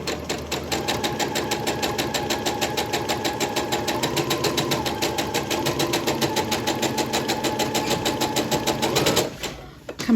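A sewing machine stitches a quilt block for a Friendship Star or Shoo Fly pattern, running steadily with a fast regular needle chatter for about nine seconds before stopping near the end.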